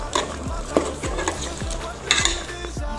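A spoon stirs tomato purée into a fish curry sauce made with coconut milk in a pot, giving several scraping strokes against the pan in a steady rhythm, close and moderately loud, with no talk.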